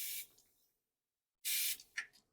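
Air at about 15 PSI hisses into an engine oil pre-lube container in two short, sharp bursts separated by a silent gap, fairly close and without talk.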